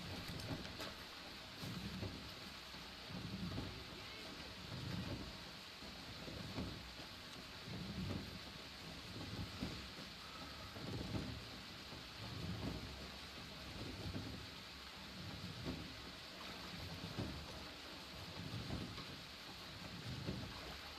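Steady rainfall in the Western game RedM, with low thunder rumbling in slow repeated swells beneath the constant hiss of rain, heard alone at a soft, distant level.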